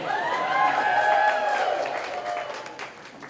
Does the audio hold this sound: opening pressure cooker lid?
no